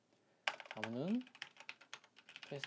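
Someone types a password on a computer keyboard, with quick, light key taps in an irregular run, close by, partly under a man's speech.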